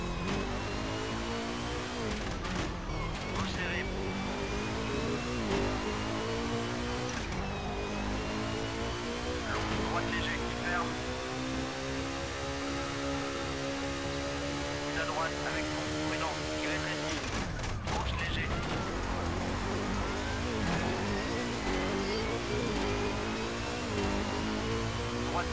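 A Volkswagen Beetle rally car in the Xbox game Rallisport Challenge, its engine droning and revving loudly and continuously with rising and falling pitch through gear changes, heard from a bonnet view with a few knocks.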